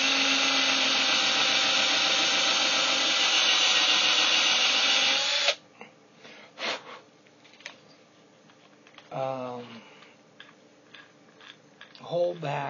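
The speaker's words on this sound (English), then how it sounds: "I'm gonna do this drilling a little faster than I did it last time" A power drill whirs steadily for about five seconds while removing a water faucet, then stops, followed by scattered clunks, handling noises and a brief voice.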